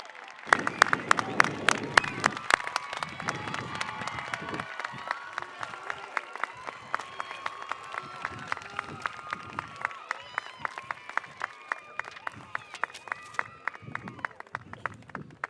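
An audience at a high school graduation ceremony applauds after a student's song, a dense, sustained wash of clapping from a large crowd that stays steady for the whole stretch with some cheering mixed in.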